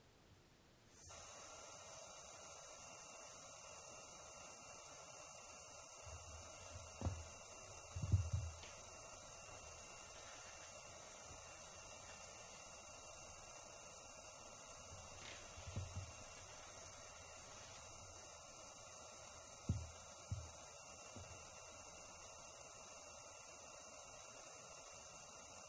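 A pure, piercing 9369 Hz test tone for a cymatics demonstration starts abruptly after a brief silence and holds steady and loud to the end, with a few faint low thumps beneath it.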